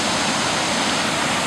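Floodwater after torrential post-Katia rains in Jefferson Township, New Jersey, rushing through trees: a loud, steady, broadband roar of moving water, unbroken and close.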